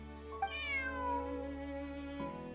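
Bonnie, a cat in Genshin Impact, gives a clear, close meow with a rising then falling pitch, followed by a shorter second call, over a quiet steady musical hum.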